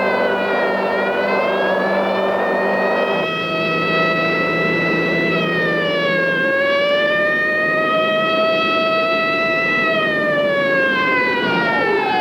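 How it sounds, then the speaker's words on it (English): Police car siren wailing steadily and loudly, its pitch rising and falling in long sweeping glides, heard alone and close for the whole stretch, as if a patrol car is chasing right behind. "Take your foot off the gas, Miss Weatherby. There's a cop behind us"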